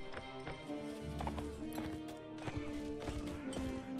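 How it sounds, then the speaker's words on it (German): Rapid rhythmic hoofbeats of a galloping horse in the game Mount and Blade: Warband, over game music and battle noise, with a brief whinny. "Oh, das Pferd ist so schnell."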